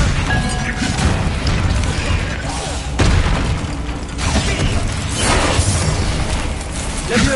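Hogwarts Legacy spellcasting, with Confringo fire-blast spells bursting in repeated heavy, crackling explosions, several loud booms spaced a few seconds apart amid continuous game noise.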